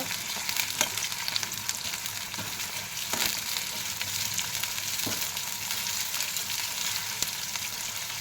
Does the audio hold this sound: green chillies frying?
yes